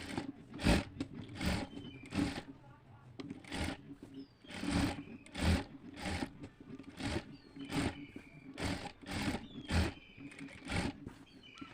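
A sewing machine stitches a leaf vine appliqué onto fabric in rapid repeated bursts, each run of stitching close and rhythmic, separated by brief pauses throughout.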